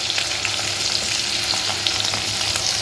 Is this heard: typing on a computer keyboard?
no